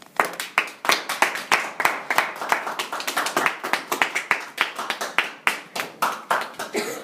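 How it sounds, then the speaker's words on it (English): Toastmasters meeting audience clapping steadily, a dense run of sharp hand claps with a quick uneven rhythm, close and fairly loud throughout. "The tradition is we keep clapping until you pass."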